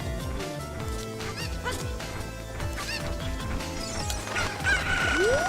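Chicken clucking and squawking sounds in a permadeath randomizer video game, heard amid busy game music with steady beats and a rising sweep near the end.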